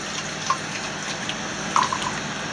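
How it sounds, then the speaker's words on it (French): Water running from a tap while making colloidal silver, a steady close trickle and splash into a container, with a couple of brief clinks, no one speaking. "On va laisser couler un peu, je vais vous montrer que normalement ça diminue."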